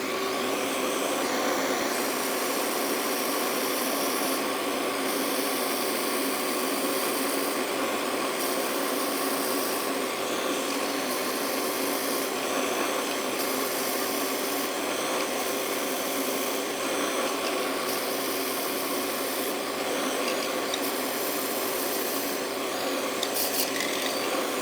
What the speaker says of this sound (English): Okay, we're ready to drill. Got a 3/8 drill bit